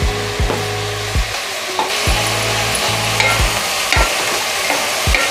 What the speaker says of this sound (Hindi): तो अब मैं डालूंगी लहसुन अदरक का पेस्ट।